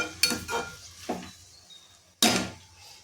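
Mustard greens being stirred in a pan, three or four separate scraping, rustling strokes of a spoon through the leaves, close and fairly loud, with a quiet pause before the last stroke and no talking.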